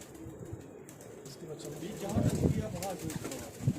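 An old Lahori Kasuri pigeon coos in low throaty bursts while a person talks nearby, with light rustling in the background.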